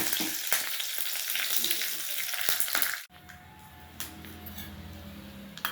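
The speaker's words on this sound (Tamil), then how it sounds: "கருவேப்பிலை போடுறோம்" Curry leaves drop into hot oil for tempering a bottle gourd chutney: a loud, crackling burst of sizzle that cuts off abruptly, leaving a quieter background hiss with a few faint ticks.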